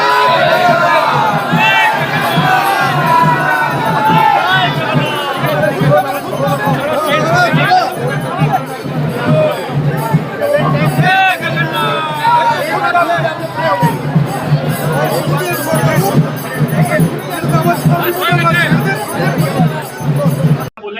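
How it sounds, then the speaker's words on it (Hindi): A huge crowd of devotees throngs the Jagannath Rath Yatra chariot procession, a dense, constant wash of chatter, shouts and cries that never lets up. "श्रद्धालुओं की भारी भीड़ के बीच भगवान जगन्नाथ की रथ यात्रा श्रद्धापूर्वक संपन्न हुई।"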